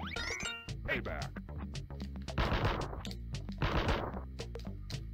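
Shots fire at the boss in The Mask SNES video game, sharp repeated gun blasts popping in quick succession with game music tones, while a voice talks over them.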